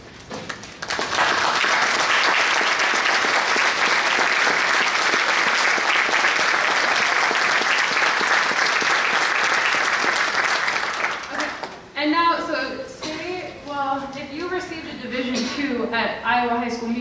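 Audience applause for students standing to be recognized for solo and ensemble honors at a high school spring band concert: loud, dense, sustained clapping for about eleven seconds, then fading as someone speaks over the room.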